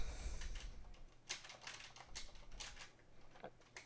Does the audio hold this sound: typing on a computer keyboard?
yes